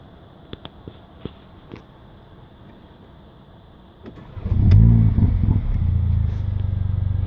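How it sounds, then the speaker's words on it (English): A 2015 facelift Mercedes-AMG A45 with a performance exhaust in Sport Plus mode cranks and fires with a loud bark after faint clicks, then settles into a deep, steady, close idle. "Now let's start the engine"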